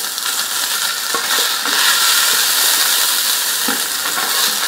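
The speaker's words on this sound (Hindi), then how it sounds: "दो मिनट में ये फ्राई हो जाएंगे बस" Chicken popcorn frying in hot oil, giving a steady, loud, continuous sizzle and crackle throughout with small pops scattered through it.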